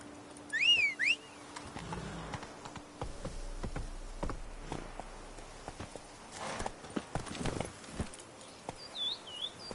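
Hooves of a horse in The Witcher game clop in short bursts amid insect buzzing and ambient game sound. Brief whistling chirps sound early and late.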